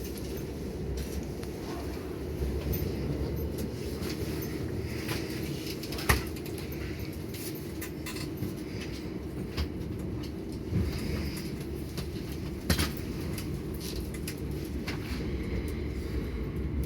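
Heathrow Express train rolling toward Heathrow Terminal 5, a steady low rumble of wheels and cabin hum with occasional sharp clunks and rattles over a long, even ride.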